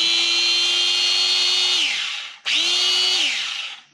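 A freshly repaired Makita angle grinder with previously stripped gears whines at a high steady pitch, spins down, then revs up again for a second shorter run that winds down, loud and close.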